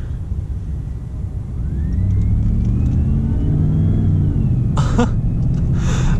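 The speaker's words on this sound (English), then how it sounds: "is the whine of the supercharger" A 700-horsepower Shelby F-150 Tonka Edition pickup engine revs up with a rising, thin supercharger whine over a deep rumble, followed by a couple of short coughing bursts.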